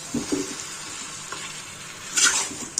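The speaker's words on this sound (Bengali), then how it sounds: "এটা ভালো করে কষিয়ে নিই" Winter-style chicken stirred and sautéed in a pan with ginger, garlic, turmeric and chilli, giving a steady close sizzle with scraping stir strokes and a louder burst near the end.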